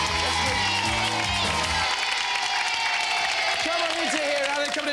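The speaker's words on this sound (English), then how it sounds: "give him a round of applause anyway" Studio audience applauds a contestant on the 1991 TVS game show Motormouth, a steady wash of clapping that runs the whole stretch, with a brief burst of music at the start.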